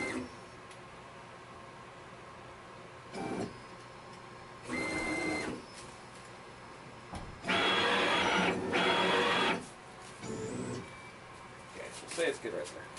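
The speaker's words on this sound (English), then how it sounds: "So I'm gonna home the machine in the X and Y." An Onefinity CNC machine homes its X and Y axes, its stepper motors whining in several short bursts of varying length, with a longer, louder run in the middle and quiet gaps between; voices speak now and then.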